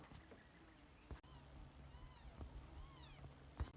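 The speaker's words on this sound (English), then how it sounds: "I heard the kittens crying" Kittens give faint, thin rising-and-falling mews, several short cries spread across a few seconds against a quiet outdoor background with occasional soft bumps.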